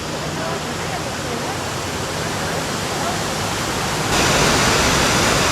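A waterfall on the Tellico River, water splitting over rocks, roars as a dense, steady rushing wash that swells louder near the end.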